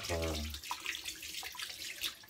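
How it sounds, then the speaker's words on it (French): Squid tentacles rinsed under running tap water in a kitchen, a steady, close, hissing stream after a brief low tone at the start. "Ensuite, je rince la partie tentacule."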